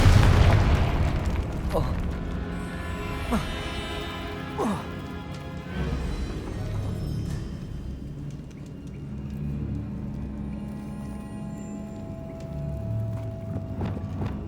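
A Confringo fire spell in Hogwarts Legacy lands as a loud, close smash-and-boom burst at the start, then trails into a lower rumbling decay with a few smaller pops over a sustained tonal backdrop.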